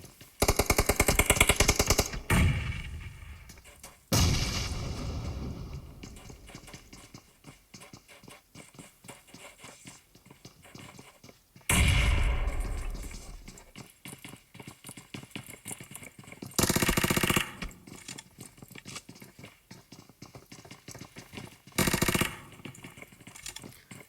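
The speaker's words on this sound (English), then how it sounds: "And that is now Xena trying to give cover fire for Mystic to get back in." Gunfire in the battle royale game PUBG during a squad match, bursts of rapid automatic fire separated by quieter gaps, some shots loud and close, others fainter, with no talking.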